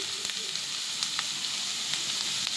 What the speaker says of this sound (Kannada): ಇದನ್ನು ಚಾಪ್ ಮಾಡಿದಂತ ನಾನು ವೆಜಿಟೇಬಲ್ಸ್ ಎಲ್ಲ ಹಾಕ್ತೀನಿ.